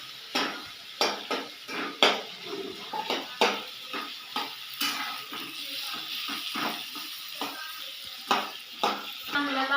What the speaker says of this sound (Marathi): तेल टाकून कांदा भाजून घ्यायचा